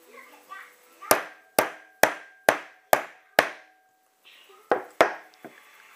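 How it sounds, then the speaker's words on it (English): Hammer tapping a press-fit part onto a Ford bonnet lock barrel: six sharp, evenly spaced metallic knocks, a short pause, then two or three more, close and loud. "so I'm going to give it a tap with a hammer."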